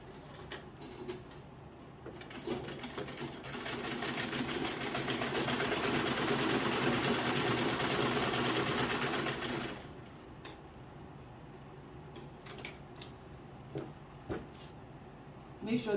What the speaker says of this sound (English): sew half inch all the way, like I'm doing now, all the way on the hem line.